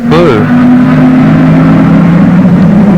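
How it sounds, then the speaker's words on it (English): A Holden HQ race car accelerates down Conrod Straight at Bathurst with a loud, steady engine drone under a commentator's voice. "And the leader accelerating down Conrod Straight"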